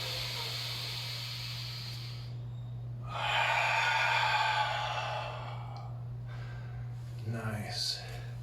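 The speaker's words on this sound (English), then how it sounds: "Breathe deeply." Deep, slow breaths during a Yang-style loosening and strengthening exercise, with long exhalations and inhalations over a steady low hum.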